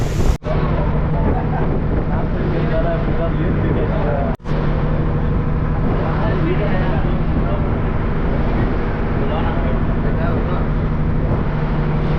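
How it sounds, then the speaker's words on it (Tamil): Wind rushing steadily over a microphone during a boat ride at Rameshwaram, a constant loud roar with a low engine-like hum beneath and two brief dropouts. "மழை பெய்யுது அது இல்லாமல் காற்றுமே நல்லா இருக்குது"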